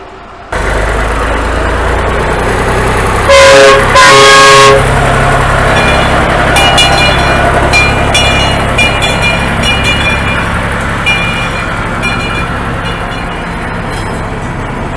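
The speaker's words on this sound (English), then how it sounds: "It's not a steam train, it's a diesel engine train." A diesel locomotive on the Superstition Scenic Railroad sounds two loud horn blasts, then rumbles steadily along with rattling rail clatter and metallic squeals as it runs.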